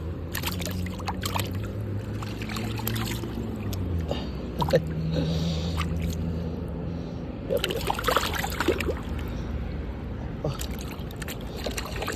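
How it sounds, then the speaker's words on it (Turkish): A red-spotted trout is washed by hand in water, giving soft sloshing and splashing close by over a low steady rumble of background noise. "Şöyle bir yıkayalım bunu."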